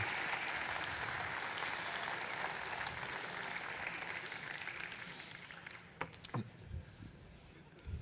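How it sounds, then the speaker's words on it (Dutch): An evening audience applauds its host with sustained, dense clapping that gradually thins and fades after several seconds, leaving scattered claps and room noise. "Allereerst wil ik een applaus hebben voor onze host van vanavond"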